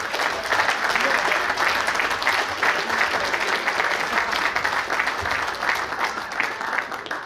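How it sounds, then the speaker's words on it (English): Steady, sustained applause from a dinner crowd at the NY Pro Scouts Hot Stove League Dinner, greeting guest of honor Matt Hyde, a full even wash of many hands clapping throughout. "Applaud for Matt Hyde."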